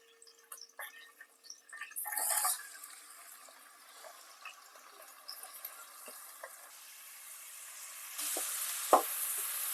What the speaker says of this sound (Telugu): నూనె మరిగింది కదా ఉల్లిపాయ వేసుకున్నాం